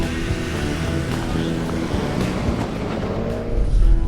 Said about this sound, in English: You'll notice that the car gets a little bit louder, you get more exhaust resonance